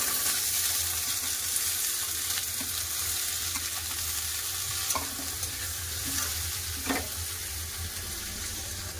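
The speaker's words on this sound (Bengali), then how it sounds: "পেঁয়াজটা ভালো করে ভেজে নেব।" Steady frying of onions in a pan, a continuous crackling sizzle with occasional soft clinks of a utensil, no voices.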